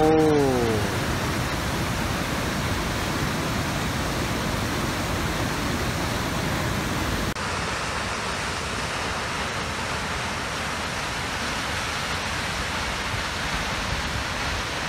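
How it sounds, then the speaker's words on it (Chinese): A waterfall in Kyushu, Japan, seen from behind alongside rushing rapids, a constant loud hiss and roar of falling, churning water, steady throughout with no voices. "就係睇瀑布嘅背面同埋條急流啊，梗係有急流先至有瀑布噶嘛"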